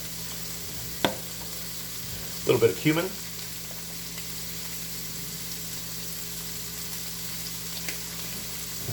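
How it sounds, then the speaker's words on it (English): Spices including chili powder sizzle steadily in a hot pan, a constant soft hiss, with a few clinks and a brief spoken remark over it. "You can hear that sizzling quite nicely now."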